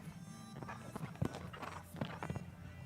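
Hooves of a horse in a show jumping arena at an FEI 3* qualifier, an irregular clip-clop of strides on the arena footing, fairly close.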